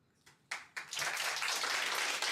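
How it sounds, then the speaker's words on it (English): Applause from an audience at a university student union election event, starting with a few scattered claps that swell within a second into steady, dense clapping from a crowd. "please give another hand round of applause to the candidates of School of Arts and Social Sciences"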